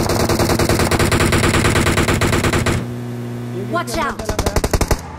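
Rapid automatic gunfire in the mobile battle royale game BGMI (PUBG Mobile), loud and close, with a long sustained burst followed by shorter spaced shots, as a voice calls out briefly between them.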